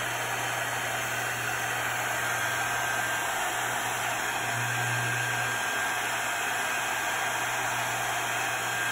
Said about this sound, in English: this is why you need a heating tool, because you're gonna push